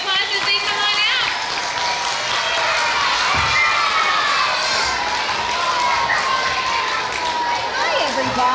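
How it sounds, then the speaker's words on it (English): Crowd of children at a school assembly applauding and cheering, a loud, continuous wash of clapping mixed with shrill shouts and excited voices that stays at full strength throughout. "Can you give them a big round of applause as they come on out?"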